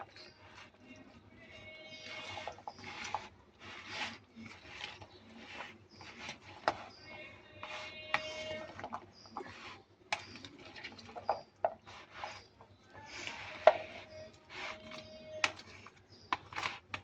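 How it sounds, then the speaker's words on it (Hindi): Chana chaat being stirred with spices in a bowl, heard as faint, irregular clicking and scraping taps of a spoon, close and quiet, with some talking alongside. "अब हम इसे मिक्स करेंगे। अच्छी तरह मिक्स करेंगे।"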